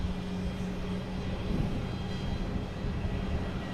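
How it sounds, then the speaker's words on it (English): An American Airlines Embraer E-175 jet takes off at Boston Logan Airport, its engines giving a steady, broad roar with a low rumble, held at a moderate distance for several seconds. "next takeoff is a American Airlines E-175 heading to Indianapolis on 9"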